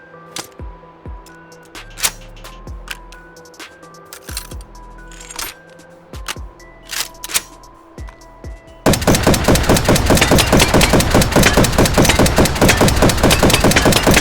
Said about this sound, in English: Fire's pretty slow for a machine gun. But it fires a big round.